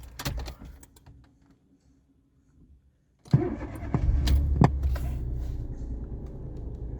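A Citroen C1 running on E85 ethanol cranks and fires up after a quiet pause, then settles into a steady close idle, with a few clicks and knocks at the start.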